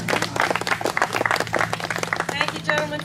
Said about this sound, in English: Let's have a round of applause for our Jewish War Veterans,